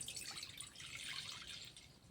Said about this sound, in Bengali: গরুর দুধ দিয়ে দিলাম।